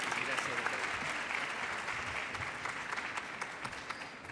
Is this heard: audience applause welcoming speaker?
yes